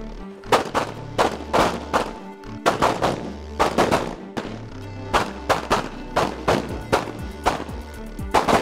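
Pocket pistols fire at 3 yards on a training range, a rapid series of sharp, loud close-range shots in quick bursts, several shooters overlapping in an irregular volley with no talk.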